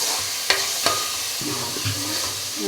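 A spoon stirs frying egg omelette pieces in a pan with turmeric for an egg omelette curry, a few scraping strokes and light knocks over a steady soft sizzle.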